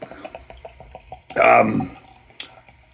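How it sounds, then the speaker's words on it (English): BJ's Grand Cru 25th Anniversary beer pours from a bottle in a short, close gurgling splash lasting about half a second, between quieter taps and faint handling sounds. "So we'll pour it out and start talking about it."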